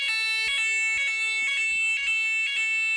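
A fire alarm siren blares from a basic fire alarm control panel after a manual trigger, a loud piercing tone pulsing in a steady repeating rhythm about twice per second, close and uninterrupted.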